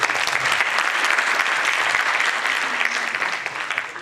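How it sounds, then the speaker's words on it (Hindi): Audience applause at a live talk, dense steady clapping from a large crowd sustained for several seconds and tapering slightly at the end, loud and close with no voices. "ताली बजा सकते हैं"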